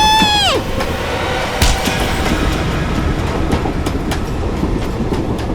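Moving passenger train rumbling steadily with rhythmic rail clatter and scattered clanks, loud and close throughout, after a brief opening falling whistle-like sweep; no talk.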